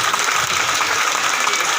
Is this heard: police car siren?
no